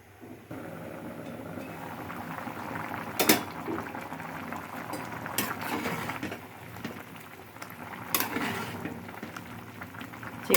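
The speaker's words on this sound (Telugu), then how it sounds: "మూత పెట్టుకొని ఉడికించుకుంటాను." Chicken curry simmers under a lid on the stove, giving a soft continuous bubbling and low rumble with occasional sharper pops and lid rattles breaking through, fairly quiet and steady with no one speaking.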